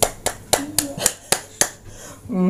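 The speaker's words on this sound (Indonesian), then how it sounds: "tepuk tangan" Hands clap on their own, about seven crisp, separate claps at an unhurried, slightly uneven pace, followed by a brief tonal sound.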